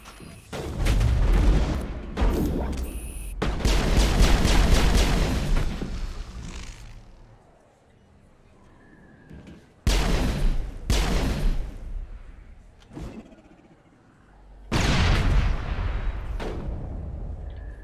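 Heavy gunfire in a space opera video game battle comes in three long, loud bursts of rapid shots and blasts, separated by quieter lulls.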